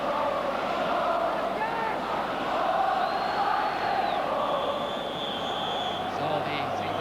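A big football crowd at Hampden Park for Scotland against Northern Ireland roars after a free kick, a broad sustained swell of distant voices that stays loud and continuous throughout.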